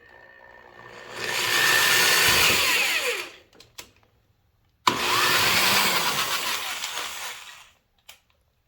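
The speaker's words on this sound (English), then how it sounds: "So now let's go ahead, let's drill these guys out here." A power drill bores holes through a kayak hull to mount a boat cleat, whining loudly in two sustained bursts of a few seconds each, separated by a brief pause with small clicks.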